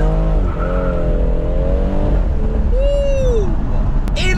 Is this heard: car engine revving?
yes